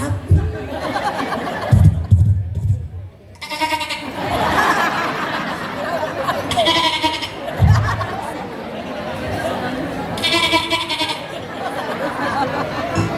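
A voice imitates a baby goat's bleat, with several short bleating calls mixed into speech and chatter in front of a school audience.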